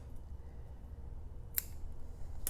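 Scissors cut fabric and lace trim for slow stitching. Two crisp, close snips stand out over quiet room noise, about a second apart.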